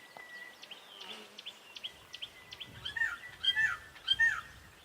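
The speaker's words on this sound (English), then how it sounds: "You can hear there's birds around." Birds chirp and tweet repeatedly nearby, short bright calls becoming more frequent toward the end, with insects buzzing faintly in the background, on an African safari at sunset.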